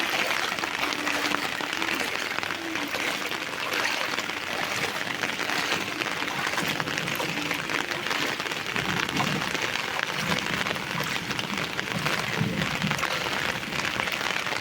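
Heavy cyclone rain patters in a continuous, dense wash throughout, flooding the roads, with faint murmuring voices in the background.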